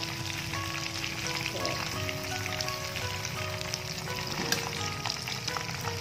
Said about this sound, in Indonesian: Nih kita goreng dulu ya teman-teman ya